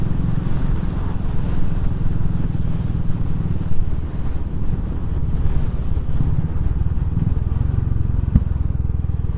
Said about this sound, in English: Nice little pop there through the exhaust.